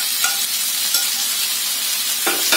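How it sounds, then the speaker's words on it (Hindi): Finely chopped tomato going into a hot pan of sautéed egg bhurji base, a bright steady sizzle with a few sharper crackles and stirring scrapes near the start and end. "अब मैं डाल दूंगी इसमें एक टमाटर को हमने इस तरह से बारीक चॉप करके रखा है"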